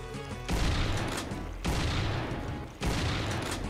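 Gunfire from a player's weapon in a Doom-style shooter game: three loud, dense bursts of rapid shooting, each cutting in sharply and sustaining roughly a second, with no talking.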